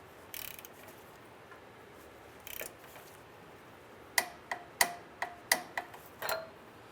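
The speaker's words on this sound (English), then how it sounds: "So now we're going to come back and torque down our upstream O2 sensor." A ratchet or torque wrench tightens the upstream O2 sensor on a Honda Element, giving a few faint scattered clicks followed by a quick run of six or seven sharp, close ratcheting clicks.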